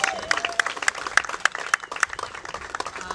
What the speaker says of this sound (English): Let's give a big round of applause for Len and his beautiful site here.